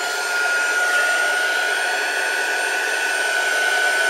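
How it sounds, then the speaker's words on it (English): A heat gun blows steadily, drying craft pieces for a butterfly project: a loud, constant close-up whine and rushing airflow with an unchanging pitch, running alone without pauses. "heat gun, and just so I can get on a bit more with it and show you what I'm going to do"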